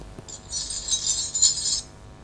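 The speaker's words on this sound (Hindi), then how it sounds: "पायल की ध्वनि" Anklet bells jingling, played back by a talking book device, a bright shimmering rattle lasting about a second and a half at moderate volume, with no voices.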